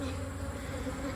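Honeybees buzz steadily around an open backyard hive during a late-summer inspection, a dense continuous drone close by with no talk over it.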